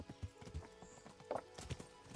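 A fast horse gallops in the medieval game Kingdom Come: Deliverance, its hooves drumming in a quick uneven clip-clop over a low, busy ambient bed, moderately quiet.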